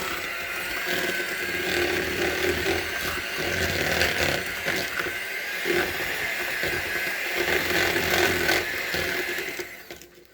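An electric hand mixer whirs steadily through thick banana bread batter, a continuous buzzing drone with slight scraping variations, close and loud, winding down at the end.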